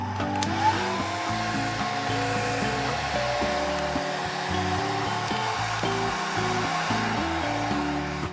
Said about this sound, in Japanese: れぐらいになったらドライヤーで乾かします。